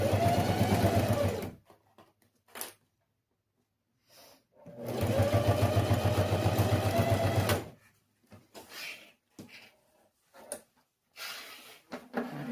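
A sewing machine stitching a pencil case runs in two steady bursts of rapid rhythmic needle chatter, each a few seconds long, separated by quiet pauses and small handling clicks and rustles of fabric.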